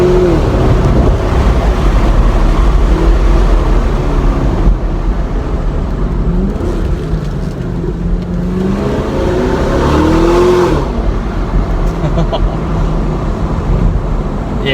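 A 2015 Chevrolet Camaro SS with its LS V8 and factory exhaust drones loudly and continuously, the engine note rising and falling as it revs and pulls through the gears, heard close from inside the car.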